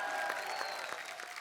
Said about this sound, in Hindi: तो जोरदार तालियां बजाएं किसके लिए?